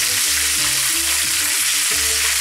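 Peppers and Swiss chard fry with garlic in a pan, a steady close sizzle broken by repeated scraping stirs, with no voices.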